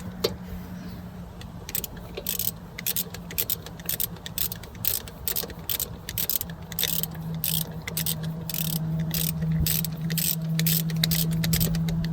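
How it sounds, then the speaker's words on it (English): Ratchet wrench clicking in steady rapid bursts while tightening a brake caliper bolt, the ticking repeating close and fairly loud over a low background hum, with no talking. "And then we're going to ratchet her up."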